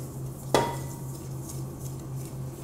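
Dry ingredients, salt and baking soda, are mixed in a bowl, with one sharp utensil clink against the bowl over a soft steady background hum.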